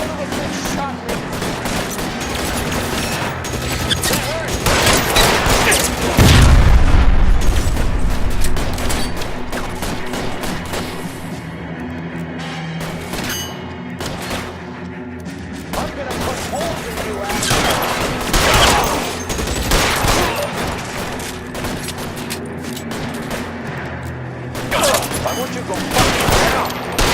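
Gunfight in the video game L.A. Noire: dense, rapid bursts of gunfire crackle close and loud, with a heavy boom early on, while voices shout over the shooting.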